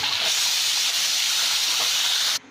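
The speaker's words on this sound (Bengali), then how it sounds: "ডিমগুলো লাল লাল করে ভেজে নিই, তারপর সাথে আলুগুলো এই তেলের মধ্যে ভেজে নিই" Eggs and potatoes fry in hot oil in a pan, giving a steady, loud, bright sizzling hiss that runs unbroken for about two seconds and then stops abruptly.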